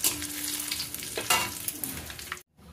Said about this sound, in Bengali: এবারে একটু ফোড়নটাকে ভালো করে ভেজে নেব